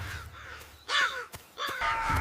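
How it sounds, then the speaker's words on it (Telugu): Cartoon crows caw as a farmer chases them from his field, several loud harsh calls in quick succession with short gaps between them, close and prominent. "సుబ్బయ్య ఆ కాకులను తరుముకుంటూ వెళ్తాడు."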